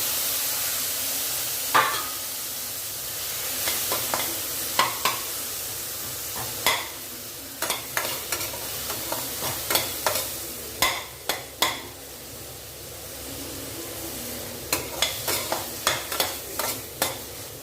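Tomatoes dropped into a hot pan of potato curry, giving a steady low sizzle broken by repeated sharp scraping and stirring knocks at irregular intervals, close up, with no voices.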